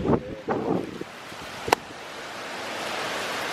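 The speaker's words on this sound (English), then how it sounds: "The rain is starting, and so is the wind" Wind and rain at the onset of Hurricane Irma make a broad steady rushing wash that builds gradually, after a few brief muffled bumps and a sharp click near the start.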